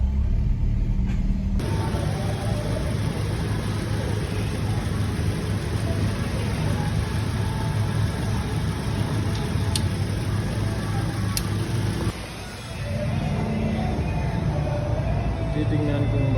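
Steady car engine and road rumble heard from inside a moving car with air conditioning on, a continuous low drone lasting throughout with a brief dip near the end.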